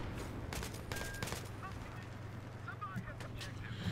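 RPG launches at a tank on Caspian Border in the Battlefield 3 beta, heard amid steady battlefield noise, with bursts of gunfire and a few sharper blasts over a constant rumbling background.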